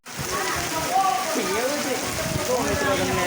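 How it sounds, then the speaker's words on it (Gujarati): Heavy rain pours in a dense, steady hiss that holds evenly from start to end, with a voice talking faintly underneath. "એક બાજુ વરસાદ ફૂલ આવે છે"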